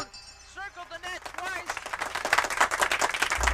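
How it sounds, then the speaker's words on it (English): An audience breaks into applause, with claps building from scattered to dense and steady, while a voice talks over the start. "thank you for that round of applause"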